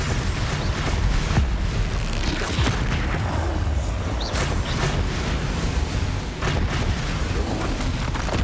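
Booming blasts from a Bombarda explosion spell in Hogwarts Legacy, a loud continuous barrage of rumbling impacts and crackling debris with no speech.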